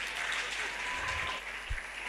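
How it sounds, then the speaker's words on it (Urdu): Audience applause in a hall at an Urdu literary conference, a steady wash of clapping at moderate level with no speech over it. "تو اب پتہ نہیں یہ تالیاں بوریت کی ہیں، لوگ چاہ رہے ہیں کہ جائیں"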